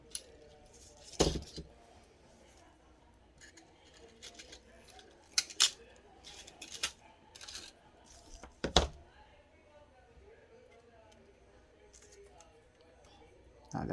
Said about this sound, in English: So the first thing we're going to do is cut a length of wire.